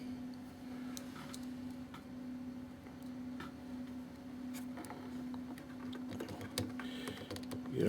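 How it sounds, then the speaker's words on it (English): Small screws being threaded in by hand while assembling an Edge 540 model airplane, a faint scatter of light ticks and clicks over a steady low hum, with a slightly louder clatter near the end. "we're going to thread all these in, then take them out"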